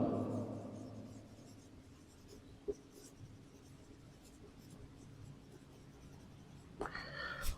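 Pen or chalk writing out a Class 10 maths solution for the volume of a combined solid, a cylinder plus hemisphere, in faint steady scratching strokes that continue under a soft room hiss.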